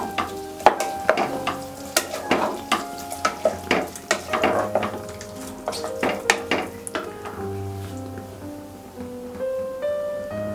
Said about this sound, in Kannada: ಉಪ್ಪು ಹಾಕ್ಕೊಂಡ್ಮೇಲೆ ಒಂದು ಸಲ ಮಿಕ್ಸ್ ಮಾಡ್ಕೊಳ್ತಾ ಇದ್ದೀನಿ.